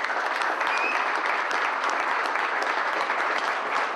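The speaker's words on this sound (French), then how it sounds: "Championne de France 2006, de Lunel, je vous prie d'applaudir Angélique Vialard." Sustained applause from an audience greeting a French national billiards champion at a medal ceremony, dense steady clapping throughout, fairly close and even in loudness with no talk over it.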